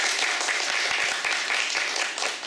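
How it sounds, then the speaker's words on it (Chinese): An audience at a Puyuma tribal community stage event claps in dense, steady applause that fills the whole moment, with no voices over it. "掌声。"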